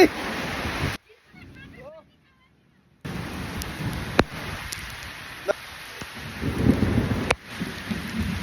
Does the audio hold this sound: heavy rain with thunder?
yes